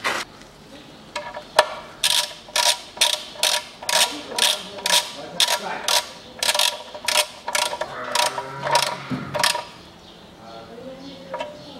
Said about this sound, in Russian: Закручиваю на место пробку.